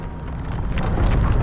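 A Confringo fire spell goes off in Hogwarts Legacy, a broad rumbling blast that swells and grows louder over about a second and a half, with no voices.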